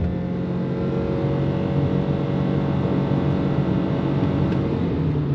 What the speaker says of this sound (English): So expect to have that drone when you do go on throttle.